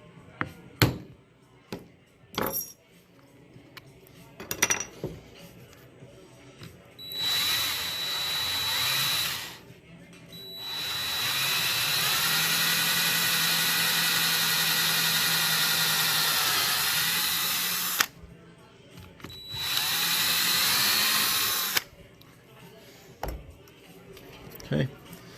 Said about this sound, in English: go ahead and drill all the way through that and put my last rivet in